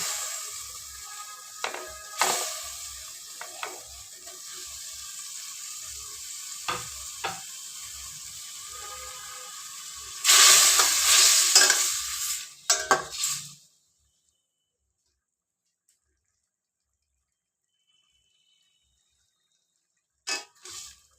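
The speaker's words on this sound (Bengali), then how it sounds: "এবার এর মধ্যে একে একে আলু আর কচু দিয়ে দেবো।" Boiled potato and taro pieces tumble into a hot pan and are stirred with a spatula over high flame, a steady sizzle with scraping clinks that swells loudly before cutting to silence.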